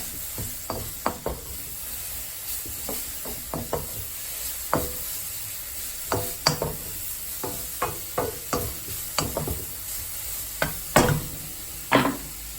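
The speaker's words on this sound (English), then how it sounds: "And I'm going to add in my noodles" Noodles stirred in a pot on a stovetop during a home power outage, with irregular close scraping and clinking knocks over a soft steady sizzle and hiss, no talking.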